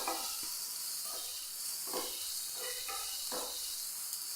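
Chopped onions sizzle in hot oil in a pan, a constant bright hiss broken by soft scraping bursts as the pan is stirred about every half second, close up and with no voices.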